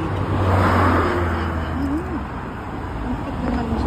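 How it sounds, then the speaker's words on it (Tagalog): A car passes on a road near a bridge during an afternoon walk, a loud low engine rumble that swells early and then eases off, with faint birdsong and a brief pitched tone around the middle. "Ang ingay ng sasakyan eh."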